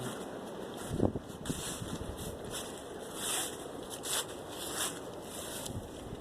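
Wind buffeting a microphone outdoors beside a 1994 Chevy Gladiator van on a windy day, a constant rumbling roar with gusty swells and a couple of thumps, no speech.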